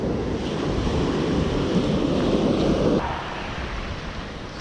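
Steady wind roaring by the sea with surf washing underneath, loud and continuous, easing slightly toward the end.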